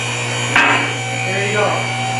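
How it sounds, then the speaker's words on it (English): Car lift ramp clicking as it passes its lock points while rising in a garage, one sharp metallic knock near the start and a softer click later over a steady mechanical hum. "That's as the ramp is passing the various lock points."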